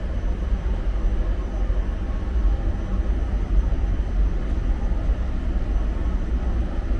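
Steady, loud chemical plant machinery drones without pause, a broad rumbling hum with no voices, like heavy plant equipment running nearby.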